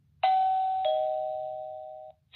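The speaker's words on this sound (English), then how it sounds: "When we go ahead and ring the doorbell, you can see that it plays a sound on the doorbell" A JAIOTlink video doorbell's two-tone electronic chime rings once, a bright ding followed by a lower dong that fades out, clear and close with no talking.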